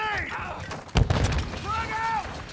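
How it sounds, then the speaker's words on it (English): A grenade detonates in Modern Warfare 2 with a single loud boom midway, heard over ongoing game voices and effects. "Throwing grenade."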